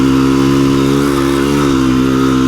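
KTM 350 EXC-F dirt bike engine pulling hard up a trail hill in first gear, a loud, close, sustained buzzing drone held at high revs, with no voices.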